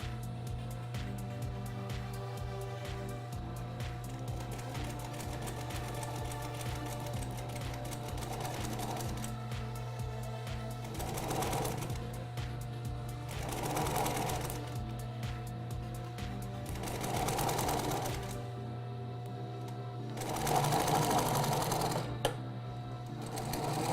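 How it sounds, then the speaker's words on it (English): A sewing machine stitches steadily after its bobbin thread ran out and was fixed, giving a continuous close mechanical hum and rapid needle clatter that swells briefly in a few spots. "So I'm going to start sewing here."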